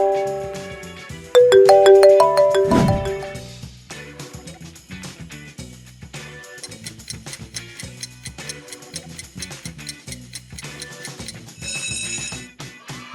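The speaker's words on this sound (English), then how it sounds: "That crisp tone belongs to Apple." An Apple iPhone ringtone rings out clearly, beginning with a few bright, sustained chime tones and then settling into a quick, repeating pattern of crisp, plucky notes, with no one talking.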